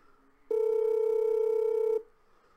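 Telephone call tone, a single steady electronic beep held for about a second and a half, clear and fairly loud against quiet surroundings.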